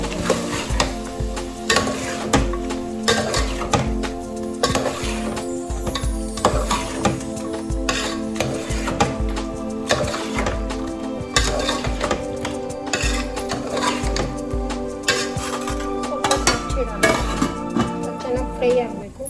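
Chopped tomatoes fry in a pan for mutton biryani while a utensil stirs and scrapes against the metal, steady sizzle with repeated clinks and scrapes, heard close and fairly loud with no talk over it.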